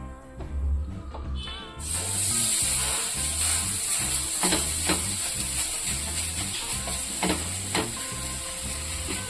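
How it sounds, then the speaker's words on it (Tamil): Ragi dough frying in ghee on a hot tawa, a loud steady sizzle running almost unbroken, with scattered scraping and stirring taps layered over it. "இது சுடுறதுக்கு வந்து நான் நெய் தான் ஊற்றிடுறேன்"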